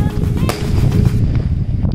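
Diwali firecrackers bursting outdoors, a dense crackling barrage of loud pops with a sharp bang near the start, continuous throughout.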